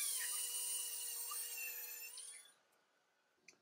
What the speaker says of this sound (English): I'm going to go back in with a second step of buffing and smooth this and brighten this up just a little bit